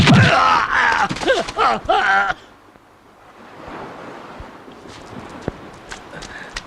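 A horse in a Hollywood action movie dubbed into Hindi gives a loud, wavering neigh-like cry for about two seconds, then the sound drops to quiet outdoor ambience with a few soft thuds.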